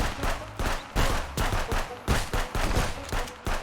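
Rapid gunfire bursts crackle loud and close in the Contraband Police video game, a rhythmic string of shots repeating several times a second with no pause across the whole stretch.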